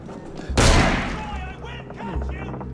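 A sharp, loud gunshot rings out in Assassin's Creed Unity, a single broadband crack followed by a booming tail, with scattered voices and game ambience around it.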